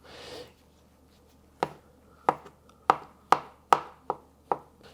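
A knife chops vegetables for a Persian chicken salad (salad Olivieh) on a cutting board, six or seven crisp, evenly spaced strikes close by with nothing else around them.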